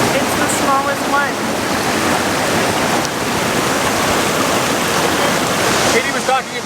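Water rushes steadily beside a wooden walkway at Plitvice Lakes in Croatia, a loud broadband roar like a cascade or fast stream, continuous and close, with faint voices in the background.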